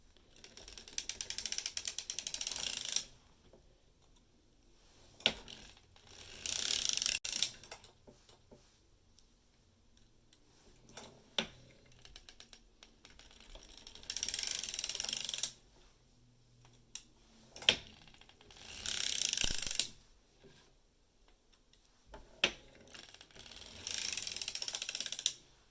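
Crank on a circular sock knitting machine turned in repeated bursts, a quiet close ratcheting clatter lasting a few seconds each time, separated by near-silent pauses and a few sharp clicks.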